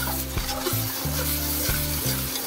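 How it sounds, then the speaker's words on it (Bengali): Chicken pieces from two home-raised country hens frying in a pot with ginger-garlic paste, heard as a close sizzle under repeated scraping strokes of a stirring spoon, with a low hum underneath and no voices. "যাচ্ছে এখন আদা রসুনের পেস্ট"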